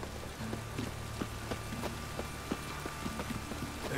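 Steady rain hiss in The Witcher 3, with scattered sharper drops and soft clopping taps spread evenly through the scene, a dense, continuous wash at moderate level with no voices.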